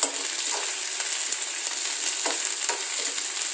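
Onions frying with spices in a pan for a samosa filling, producing a steady, close hissing sizzle with a few soft stirring scrapes throughout and no talking.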